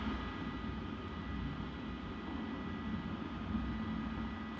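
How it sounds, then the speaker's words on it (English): A propeller aircraft engine in the Birds of Steel video game during takeoff, a steady, low droning roar held at constant level throughout, with no voices. "Now I'm taking off again"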